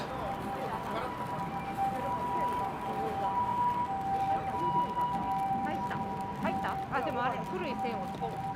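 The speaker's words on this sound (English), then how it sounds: "Here comes an ambulance." An ambulance siren wails steadily along a busy downtown Osaka street, a sustained tone held over traffic rumble and background voices.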